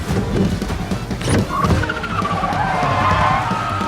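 A car in a Fast & Furious film skids after the handbrake is pulled, with a loud, sustained tire squeal rising over engine noise and lasting a couple of seconds.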